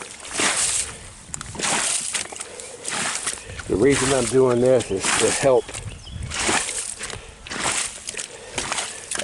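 Muddy rainwater sloshes and splashes in a full swale in a rainy permaculture landscape as a boot kicks through it, in short repeated bursts under someone talking throughout.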